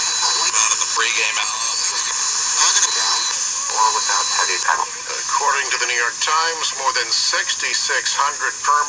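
A voice from an AM broadcast-band station comes through a software-defined radio receiver, thin and band-limited, over a steady hiss of static and a faint whine.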